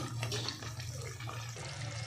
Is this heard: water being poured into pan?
yes